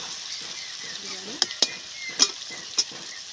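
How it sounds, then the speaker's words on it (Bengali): Tomato frying in a pan, a steady soft sizzle broken by several sharp clicks of a utensil stirring against the pan. "টমেটোটা গলে গেছে, ভালোভাবে ভাজা হয়ে গেছে।"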